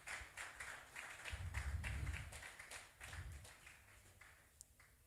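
Audience applause in a conference hall as a panel moderator walks on stage, a steady wash of many hands clapping at moderate distance, swelling briefly then tapering off over a few seconds.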